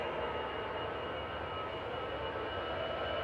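An EasyJet airliner bound for Pisa at Manchester Airport gives a steady, fairly faint jet rumble with a broad hiss, heard alone without talk.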